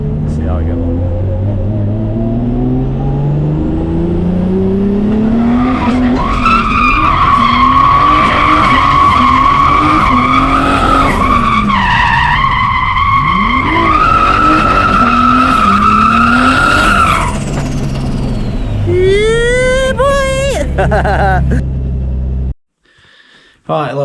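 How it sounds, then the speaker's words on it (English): A boosted Japanese car skids with long, loud tire squeals rising and wavering over a revving engine, sustained for most of the stretch before cutting off abruptly near the end. "We're just gonna discuss my car and the little bit of skidding that I did"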